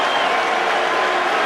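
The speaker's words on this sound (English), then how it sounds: "maybe the applause from England was genuine" A crowd at an England versus India Test cricket match applauds for England, a brief, steady, dense wash of clapping with a hint of cheering.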